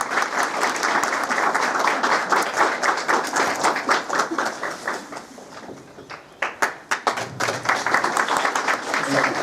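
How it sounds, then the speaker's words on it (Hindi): Loud audience applause welcoming an honoree at an Anti Leprosy Day event held by the Health & Family Welfare Department in Chamba; dense, vigorous clapping throughout, with a brief dip and a few distinct louder claps near the end. "सम्मानित करते हुए जोरदार तालियों से स्वागत।"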